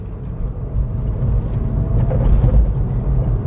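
A VW Golf MK7 rolls over a bumpy road, with a steady, loud low engine and road rumble and a few faint knocks from the uneven surface. No one talks.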